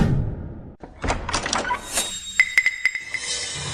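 A door is forced open in a film scene: heavy thuds and scraping lead into a sharp crack, then a run of bright, evenly spaced metallic clinks.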